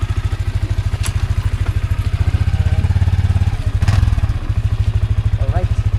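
A motorcycle engine idles nearby with a steady, rapid low thumping pulse, dipping briefly before resuming, under a couple of faint background noises.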